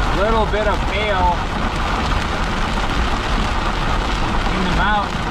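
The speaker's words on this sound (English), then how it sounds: "Bit of hail" Hail falls on a pickup truck in the mountains, a loud, dense and continuous patter on the vehicle, with a voice briefly heard over it near the start and again near the end.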